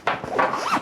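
A zipper on the side of a Snailax vibration foot massager's removable fabric cover is pulled open in one quick continuous zip, close and clear, with no talking.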